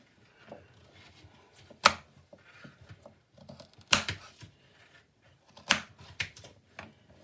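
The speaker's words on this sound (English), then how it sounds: "just kind of chop them into that kind of size" A knife chops carrots on a board with a handful of sharp, separate thwacks spread unevenly over several seconds, close by and fairly quiet, with soft scraping and handling noises between the cuts.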